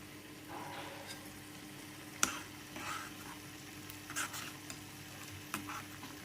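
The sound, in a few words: cumin and mustard seeds tempering in hot oil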